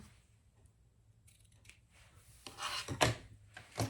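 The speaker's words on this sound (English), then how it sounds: "I'm going to trim my ribbon just a little." Scissors trim ribbon in a few quick, crisp snips close by, quiet at first, then sharper cuts near the end.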